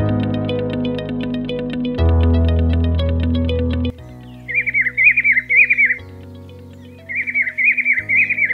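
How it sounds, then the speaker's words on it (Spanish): A rufous-capped antshrike gives short chattering call phrases in two bouts, heard clearly over soft background music that fades to quiet between the calls. "La choca corona rojiza es pequeña y confiada."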